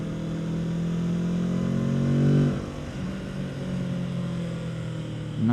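A Kawasaki Z650 motorcycle in third gear, ridden on a coastal road near Brijesta, builds engine pitch close up and then drops sharply as the throttle eases. It settles into a steady hum before revving again at the end, with no speech.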